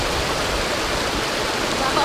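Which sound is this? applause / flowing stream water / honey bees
flowing stream water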